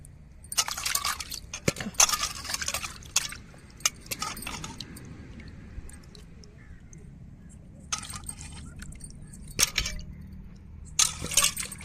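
Cut fish being washed and rubbed with salt in water, with splashing and wet sloshing that comes in bursts, and sharp clinks of the pot between quieter squishing.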